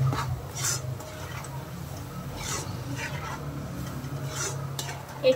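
Utensil scraping and stirring in a pan as chicken kharda ingredients are sautéed together in oil, with soft intermittent clinks and rasps over a low steady background, fairly quiet and without speech.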